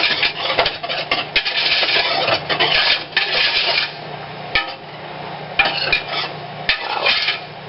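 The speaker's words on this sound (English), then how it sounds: "Grab my whisk and mix it together" Wire whisk stirring dry sugar in a metal pot for home-canned strawberry rhubarb pie filling: continuous scraping and rattling against the pot walls and base, fast and close, with brief pauses between bursts of vigorous mixing.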